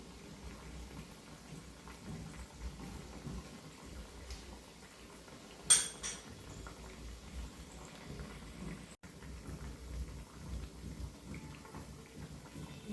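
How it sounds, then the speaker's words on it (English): Coriander fritters (kothimbir vadi) fry in oil with a faint, steady crackling hiss and one sharper pop partway through. "let us fry all our vadis well till they golden brown"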